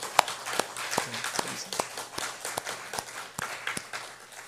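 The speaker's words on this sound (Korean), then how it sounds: "우리 함께 하나님 앞에 영광의 박수를 돌리시겠습니다" A church congregation at a Wednesday worship service breaks into applause: scattered, fairly sparse claps of uneven rhythm, soft and slightly distant in a reverberant hall, with no voices over them.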